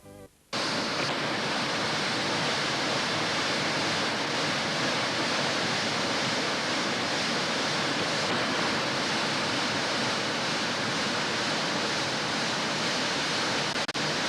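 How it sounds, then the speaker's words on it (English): Steady, dense roar of a waterfall at the hydro camp on the Gordon River, Tasmania, filling the whole clip, constant and loud with no pauses. "This is the waterfall at the hydro camp."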